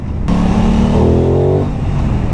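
A 2021 Aprilia Tuono 660 motorcycle engine revs up sharply, its note rising and holding briefly before dropping back to a loud, steady idle rumble, close and alone with no talking.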